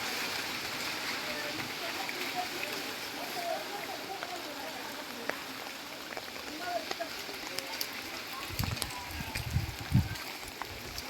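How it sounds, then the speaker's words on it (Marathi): Steady, heavy rain on a farm field with water rushing continuously through the field nearby, a dense hiss throughout, and a few low thuds toward the end. "आजचा दुपारचा मुसळधार असा पाऊस आणि शेतातून अशा प्रकारे फुल्ल पाणी वाहत आहे"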